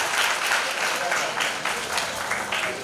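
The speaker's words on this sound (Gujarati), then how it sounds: "જોરદાર તાળીઓથી વધાવો." An audience at a community award ceremony in Junagadh claps steadily, a dense, even round of applause that holds at the same level throughout.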